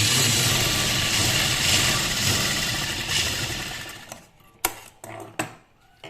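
A pedal-operated sewing machine stitches a straight seam, giving a steady loud whirring run for about four seconds. It then stops, leaving a few sharp clicks and taps in near silence.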